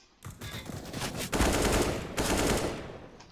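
Rapid bursts of M4A1-S rifle fire in CS:GO's Wingman mode, a dense rattle of shots in two loud sustained volleys with a brief lull between, close and without talk.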